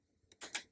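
Short burst of computer keyboard keystrokes entering a Linux terminal command on a Raspberry Pi 4 running Ubuntu Mate, a few quick clicky taps close by, with no talk.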